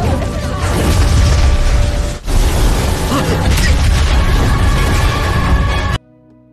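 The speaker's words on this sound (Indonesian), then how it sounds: "Xiao Yan juga tak sengaja membuat wadah tersebut meledak" An alchemy vessel explodes in a loud, sustained blast and crashing rumble with a brief dip partway, ending abruptly into near silence.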